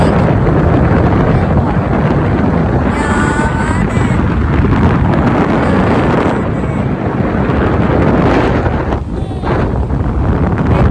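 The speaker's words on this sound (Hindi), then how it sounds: "सिर्फ से रात में ठंडी हवा चल रही है" Cold night wind buffets the microphone while riding on the back of a motorbike, a constant loud roaring rush with no break across the whole stretch.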